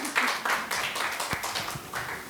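Audience applause at an open house event, a brief patter of clapping from a small crowd, fairly close and steady for a couple of seconds.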